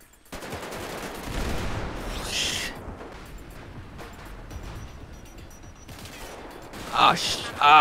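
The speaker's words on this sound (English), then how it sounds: "Do you want me to fire random shots into it to distract?" Video game gunfire rattles into a camp in bursts of rapid shots, fairly distant and steady, with sharper bursts near the end; voices talk over it at times.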